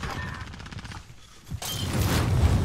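Rapid automatic gunfire rattles in the video game Modern Warfare, then cuts off and gives way to a louder, rumbling burst of shooting and blasts.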